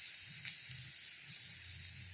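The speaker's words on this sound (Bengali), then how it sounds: "চিংড়ি মাছগুলো আগে দিয়ে দেবো।" Large salted prawns, heads still on, go into a pan of garlic cooking in oil and sizzle with a steady, fairly loud hiss. Faint low bubbling and popping run underneath.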